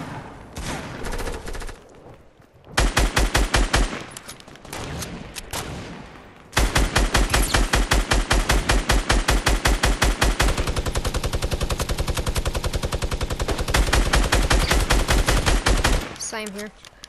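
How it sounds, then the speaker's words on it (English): Rapid automatic gunfire from a Fortnite match, loud, close and sustained across long unbroken bursts with brief pauses between them. "This man's trying to shoot."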